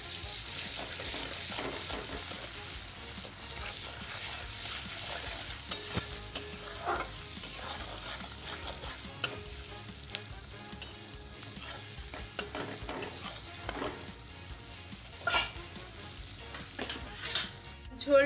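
Chili powder and chopped tomato fry in a pan for a spicy papad curry, a steady soft sizzle running throughout, punctuated by occasional scrapes and clinks of a stirring spoon against the pan.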